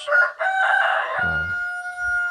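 KUB-2 village chickens, a close rooster crowing one long strained call, followed by low clucking and a soft cluck at the end.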